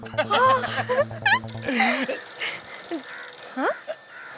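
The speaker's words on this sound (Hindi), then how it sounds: "रिंगटोन है" A repeating electronic phone ringtone with a rhythmic chiming pattern plays for over a second, then voices talk over faint lingering tones.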